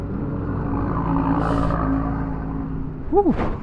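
A Suzuki Nex C scooter ridden on an Indonesian road, its engine a steady close rumble under wind noise that swells as it accelerates to overtake. A brief rising and falling whine from a passing vehicle comes near the end.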